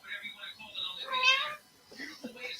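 A house cat meows in a few drawn-out, wavering cries, fairly close, with a short pause before more mewing; a person's voice sounds faintly around it.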